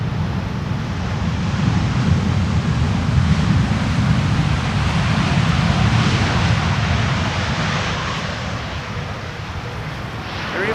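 A Transavia A321neo rolls out after landing with light reverse thrust, a broad steady roar mixed with wind noise, distant and continuous with no speech.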